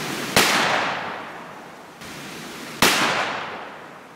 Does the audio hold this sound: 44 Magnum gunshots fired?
yes